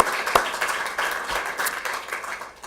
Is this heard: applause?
yes